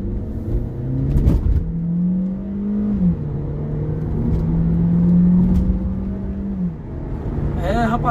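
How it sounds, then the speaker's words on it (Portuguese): A 1.8-litre car fitted with a remote-controlled stainless steel 304 exhaust diffuser accelerates hard. The engine note climbs through gears in loud, close rising sweeps, with brief dips between shifts. "O carro pega velocidade muito rápido, já tá 120 por hora."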